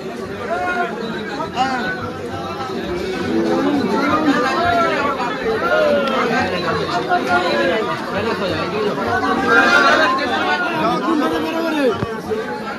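Dense chatter from a large crowd of devotees at Tarakeswar temple in 2025, a steady, loud babble of many overlapping voices with no pause.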